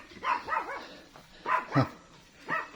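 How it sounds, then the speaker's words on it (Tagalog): Several dogs bark in short bursts, a pair of barks followed by another pair and a single bark, fairly close and clear. "Tahol ng tahol mga aso."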